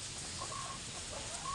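A black hen that is laying eggs clucks softly amid steady farmyard background noise, with a few faint, brief calls and no talking.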